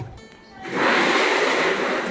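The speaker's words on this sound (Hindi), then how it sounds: "तो मैं पानी ले लूँ पोछे के लिए, यहाँ पे इसको मैं भर लेती हूँ।" Water pours into a container for mopping: after a short quiet moment, a loud, steady, rushing splash starts and continues evenly to the end.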